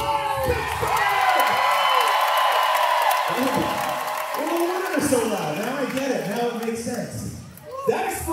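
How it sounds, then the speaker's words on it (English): A large crowd at a rock concert at Star Lake Pavilion, Pittsburgh, cheers and applauds continuously, a dense roar of claps and shouts that swells and fades slightly over several seconds. "Give yourselves a round of applause."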